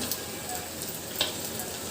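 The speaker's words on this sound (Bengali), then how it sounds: "তেলটা গরম করে কড়াইতে দিয়ে দিলাম দেখুন কি সুন্দর ভাজা হচ্ছে" Koi fish fry in hot oil in a wok after a rub of salt, chili powder and turmeric, giving a steady, dense sizzle with a few sharper pops.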